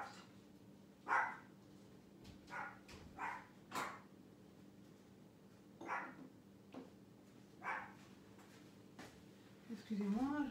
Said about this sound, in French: vous allez entendre aboyer pendant un moment